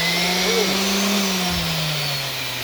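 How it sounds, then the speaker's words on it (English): A rotary sander whirs steadily on wood, a continuous close, loud motor hum with a slight pitch drift over its brief span. "I'm using a rotary sander"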